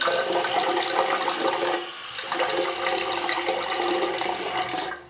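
Tap water runs in a steady, fairly loud rush while someone wets their face during a skincare routine. It dips briefly partway through, then cuts off at the end, with no talking.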